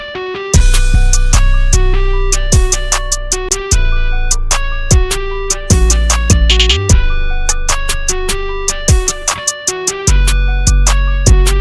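A clean electric guitar plays steady rhythmic chords over a loud, punchy drum beat with deep bass, continuous and up front throughout.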